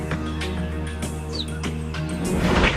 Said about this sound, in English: she's going to start to chirp like a bird